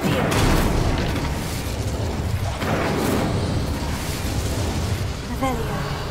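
Incendio fire spell cast in a video game near a boiler, a continuous roaring, booming blast of flame that fills the whole stretch at steady loudness, with a brief chirp near the end.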